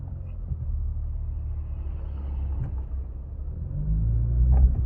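Inside a 2015 Lexus RC350 F Sport fitted with a Remark axleback muffler, driven in normal mode, a steady low engine and exhaust rumble holds throughout, swelling slightly near the end.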